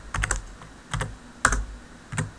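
Keys clatter on a computer keyboard in four short, quick bursts of several strokes each, close and clear, with no voices.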